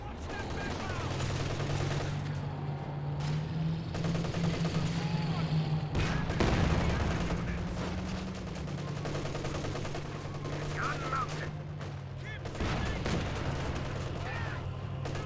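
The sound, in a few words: artillery fire in Company of Heroes 2 video game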